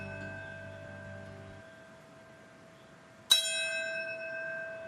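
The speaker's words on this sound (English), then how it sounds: "Bells toll at New York's World Trade Center to mark the moment the North Tower fell on September 11th, 2001." Bells toll at the World Trade Center 9/11 memorial in New York: a lingering resonant bell tone fades, then a fresh loud strike rings out with a long shimmering decay.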